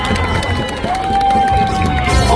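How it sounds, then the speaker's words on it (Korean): A crowd at an outdoor protest rally in South Korea, with loud continuous cheering and applause, a sustained tone over it and no pause. "큰 박수로 모시겠습니다."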